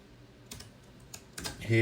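Keys clacking on a computer keyboard while code is typed, a few scattered keystrokes in a quiet room, with a louder cluster of taps near the end.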